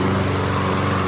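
A gasoline lawn mower engine roars loudly and close for about a second, a steady, buzzing drone as it starts up for the season's first mow.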